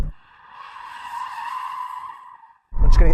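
An Audi RS6 on track squeals its tires while trying to drift, a sustained high screech that swells and fades over about two and a half seconds, then cuts into a loud burst of engine and road noise.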